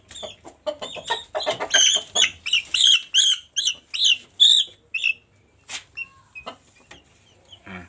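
Chickens clucking and squawking nearby in a quick series of loud calls, trailing off into a few sparse clucks.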